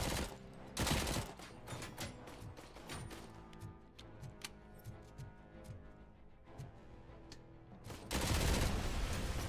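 Gunfire in the video game Robocop: Rogue City, played on the hardest difficulty: rapid bursts of shots crackle in dense volleys, heaviest at the start and end, with scattered single shots and clicks between, fairly quiet overall.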